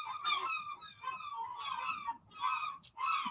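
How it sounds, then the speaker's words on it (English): Gulls call repeatedly in loud, squawking bursts, several overlapping cries with brief gaps between them, close and clear with no talking. "Oh, those seagulls."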